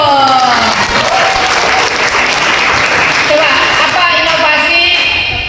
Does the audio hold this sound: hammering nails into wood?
no